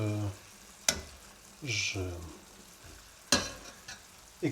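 Tuna sizzling in a frying pan as it is turned one last time: a soft frying hiss with sharp clanks of a utensil against the pan and a scraping stir in the middle, close and fairly quiet.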